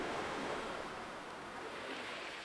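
AI-generated beach ambience of gentle waves washing continuously as a soft, steady roar of surf, with no distinct seagull calls standing out.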